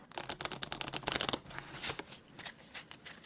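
Two decks of playing cards shuffled together for a solitaire game, giving a close riffling flutter that is loud at first and fades into softer card handling, with no talking.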